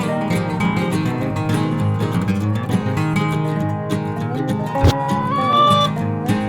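Broody hens cluck and murmur in a continuous, layered chorus close by, with a few rising squawks near the end.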